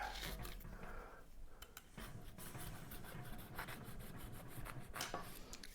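A cranberry orange soda bread stuck in its baking pan being loosened, quiet close rubbing and scraping of a utensil along the pan's sides and bottom.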